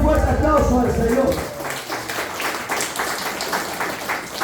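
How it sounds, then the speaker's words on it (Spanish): A crowd claps loudly at an evangelical church service, applauding the Lord, fading in over music and sustaining a dense, lively applause that continues to the end. "den un fuerte aplauso al Señor"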